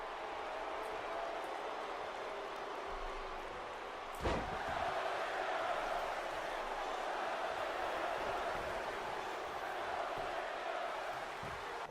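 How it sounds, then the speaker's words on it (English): Arena crowd noise from a WWE 2K wrestling match, a dense steady roar of many voices under commentary, with one sharp slam-like impact partway through. "Let's go Ziggler chant from the crowd."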